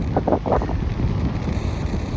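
Strong wind buffets the microphone outdoors in a loud, continuous roar, with gusty rumbling throughout and no voices.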